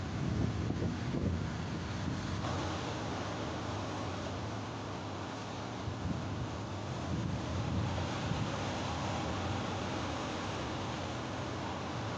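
Sea waves beat against the shore at Mariveles, Bataan, as a continuous rough wash of surf mixed with heavy wind buffeting the microphone, steady and fairly loud throughout.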